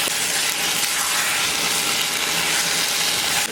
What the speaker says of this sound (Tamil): 1/2 கிலோ சிக்கன் தான் எடுத்திருக்கேன். அதை போட்டுடுவேன். போட்டுட்டு நல்லா வதக்குறேன்.